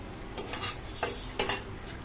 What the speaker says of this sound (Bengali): নারকেলটা ভেজে নেব